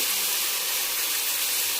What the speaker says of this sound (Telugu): ఇప్పుడు ఇందులో అయితే టమాటా ముక్కలు వేసేస్తున్నాను.